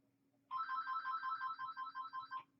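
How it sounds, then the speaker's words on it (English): A telephone rings in a workshop during a charging port repair, one continuous burst of rapid warbling trills lasting about two seconds, fairly close and clear over a low steady hum, with no voices. "sorry about the phone ringing"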